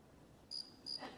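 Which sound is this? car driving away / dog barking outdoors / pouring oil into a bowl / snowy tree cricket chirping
snowy tree cricket chirping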